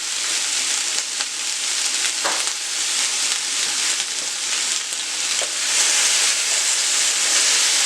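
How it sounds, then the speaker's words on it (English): Vegetables fry in a hot skillet with a loud, dense, continuous hissing sizzle that swells slightly near the end, with occasional scraping stirs and no speech. "All we're doing here is releasing some of the juices from these vegetables so it can season up the skillet"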